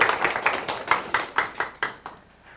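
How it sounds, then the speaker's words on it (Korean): A small audience claps a welcome for the manager of an Italian restaurant at a forum, with a series of distinct, fairly close hand claps at a loose, uneven pace. "큰 박수로 맞이하겠습니다"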